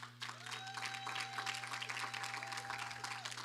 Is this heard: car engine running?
no